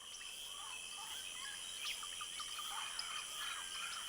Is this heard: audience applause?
no